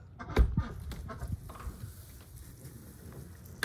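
Chickens in a chicken pen give soft scattered clucks and low murmurs, close by, with faint rustling and shuffling and no talk.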